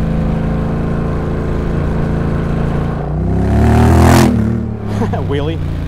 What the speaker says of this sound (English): I'll do a flyby at about 30 or so and hit the gas.